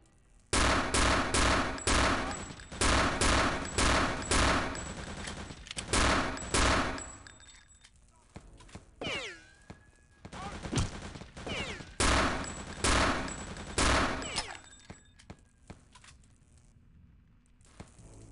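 Rapid gunfire in Return to Castle Wolfenstein comes in repeated loud bursts of shots at close range. Quieter gaps with pickup chimes sit between the volleys, and a final run of shots ends on a sparse, softer stretch.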